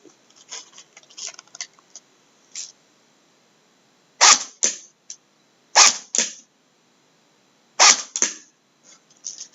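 Cybergun SwissArms SG 552 Commando airsoft rifle with a nylon V3 gearbox running on a 7.2 volt nickel metal hydride battery, firing at a box in sharp snapping bursts and single shots separated by silent gaps.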